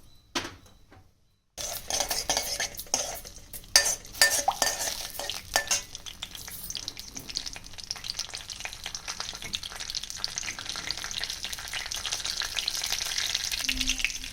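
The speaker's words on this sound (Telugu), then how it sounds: "దాంట్లోనే 1/2 టేబుల్ స్పూన్ జీలకర్ర వేసుకొని ఇది వేయించుకుందాం" Cumin seeds frying in hot oil in a kadai, with a brief quiet start and then a loud continuous crackling sizzle, scraping stirs and clinks of a spoon on the pan, no voices.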